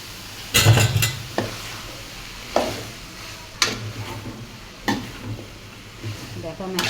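Bottle gourd goes into a pan of cooking fish and prawns and is stirred, bringing loud scraping clatters of a utensil against the pan over a steady sizzle, several distinct stirring strokes at irregular intervals, close by.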